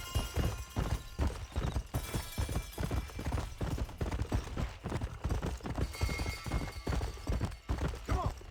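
A horse ridden in the Red Dead Redemption video game clip-clops along in a quick, steady rhythm of hoofbeats, close and continuous throughout, with no talking.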